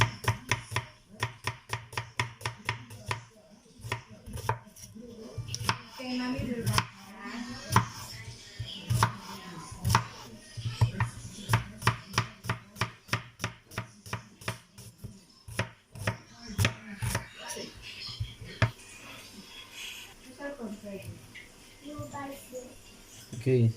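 Onions being cut with a knife on a board in a home kitchen make rapid, close chopping knocks, some in quick bursts and others spaced apart, with occasional voices and a child's speech in the background.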